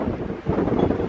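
Strong wind blows steadily through woods at a hidden cemetery on a cold day, a loud continuous rushing and buffeting against the microphone with a brief lull midway.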